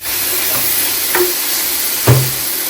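Mushrooms and rice frying in butter in a pan give a steady soft sizzle throughout, with a few brief knocks and stirring scrapes, the loudest near the end.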